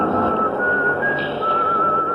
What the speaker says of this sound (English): I hear some contented soul whistling